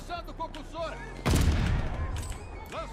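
Call of Duty: Vanguard DP-27 light machine gun fires in a loud burst of booming shots that ring out and decay, with quieter game sounds and faint voices around it.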